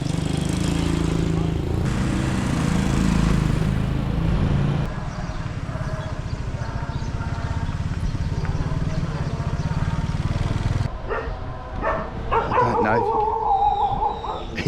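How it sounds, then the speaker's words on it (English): At the Mae Klong train market in Thailand, a dog barks and howls repeatedly while a low droning chant from monks inside carries underneath, with busy ambient noise around. "Hear the monks chanting inside over the barking dog."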